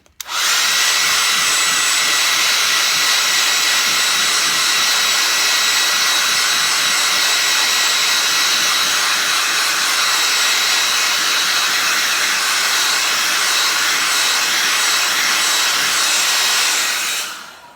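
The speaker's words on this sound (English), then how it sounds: "I am going to dry this first, so bear with me with the hairdryer" A hair dryer blows continuously with a steady high-pitched whir, starting abruptly and cutting off at the end, with no talking.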